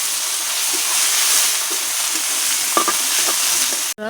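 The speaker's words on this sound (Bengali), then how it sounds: "পেঁয়াজটা এখন সুন্দর করে লাল লাল করে ভাজা করে নেবো" Finely chopped onions fry in a pan for a katla fish kalia curry, giving a steady, close hiss and sizzle with a few soft stirring scrapes and a brief clatter at the end.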